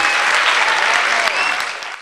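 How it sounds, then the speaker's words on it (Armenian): Applause from an audience at a ceremony honoring a ballet master, a dense, steady wash of many hands clapping that swells and then fades toward the end. "ծափահարենք"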